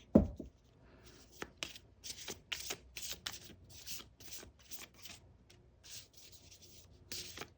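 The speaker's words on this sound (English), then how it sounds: "Let's keep shuffling." Tarot cards are shuffled by hand in a series of soft, papery riffles and slides, close and quiet, with short pauses between bursts and no talking.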